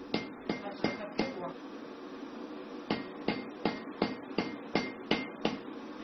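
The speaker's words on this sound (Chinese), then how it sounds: "天然铜经过一次锻打之后会变硬，声音听起来就会变得清脆" Natural copper being forged by hand, a series of sharp metallic hammer strikes in a steady rhythm, close and clear, with a short pause between bursts and no talking.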